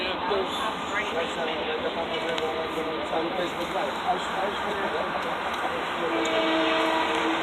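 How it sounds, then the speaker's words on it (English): A Long Island Rail Road Main Line train pulls into a station, a loud, broad rumbling roar with metallic clatter that holds steady and swells slightly near the end, with some voices mixed in. "Here comes a train."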